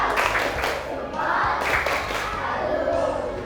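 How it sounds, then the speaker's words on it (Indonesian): A primary school class claps together in a short burst of applause, with some voices and cheering mixed in. "Kita kasih tepuk salut."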